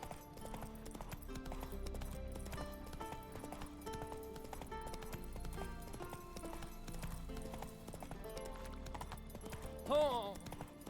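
Horse hooves clip-clop at a gallop in The Witcher 3, set against a steady game music score, with a horse whinnying briefly near the end.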